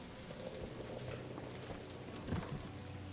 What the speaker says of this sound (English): It is raining. It is still raining, right?